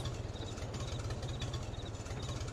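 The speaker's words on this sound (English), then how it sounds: "the Farmall is the only tractor that we have" An old Farmall tractor engine idles steadily up close, a loud, even low chug of rapid regular firing pulses with a rattly mechanical edge running throughout.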